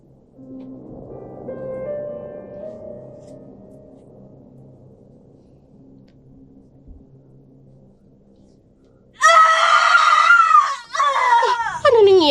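A woman screams loudly and shrilly near the end, a long, piercing cry that breaks off once and then resumes, after a stretch of low rumbling background.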